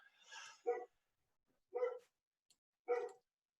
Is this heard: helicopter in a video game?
no